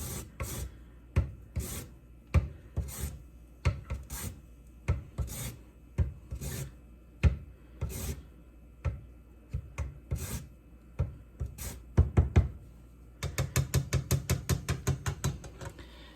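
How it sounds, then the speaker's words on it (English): A lime is zested against a grater for a birria taco meal kit, making close, sharp rasping strokes in a steady rhythm that turn into a quicker run of short scrapes near the end, with no voices. "with the lime, we're gonna, it says zest half of it."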